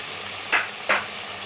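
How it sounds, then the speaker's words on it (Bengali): A spoon stirs tomatoes into ginger-garlic paste in a pan, giving two short scraping strokes over a soft, steady sizzle of frying. "এখন আমি আদা রসুনের সাথে টমেটোটা ভালো করে মিশিয়ে নিচ্ছি।"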